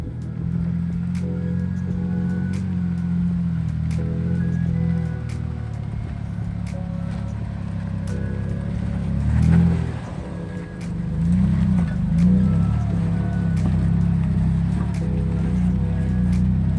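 A vehicle engine is revved with the throttle on a mountain trip, giving a steady loud idle rumble that swells into throttle blips near the middle and again later, continuous and close with no talk.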